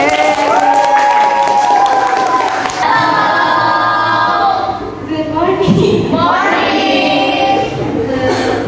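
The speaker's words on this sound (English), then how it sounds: "Please give applause" An audience applauding a class English show performance: steady clapping and crowd noise throughout, with voices and children's chatter mixed in over the applause.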